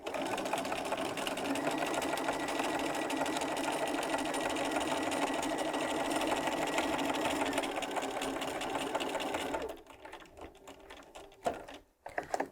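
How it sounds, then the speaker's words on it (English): A sewing machine stitches a quarter-inch seam on a pinwheel quilt block, running steadily and close for about ten seconds before stopping, followed by a few quiet handling clicks. "I'm going to put the 1/4 inch guide in the line and sew the other way"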